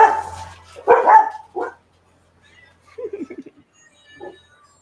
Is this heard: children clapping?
no